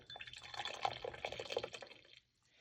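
Brewed Lost Pines yaupon tea, a light roast, is poured into a cup in a steady close trickle for about two seconds before stopping abruptly.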